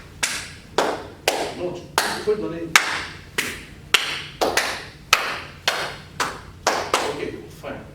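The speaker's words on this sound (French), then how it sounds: "je vais applaudir et on se les passe" Hand claps passed one by one around a circle in a group exercise, a steady sequence of about fifteen sharp claps, close and clear, with brief speech in between.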